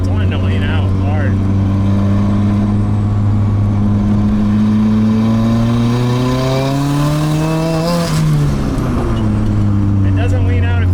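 A Nissan 180SX engine drones loudly and steadily while the car is driven. Its pitch climbs gradually, then drops sharply near the end before settling again; the engine runs lean under heavier throttle.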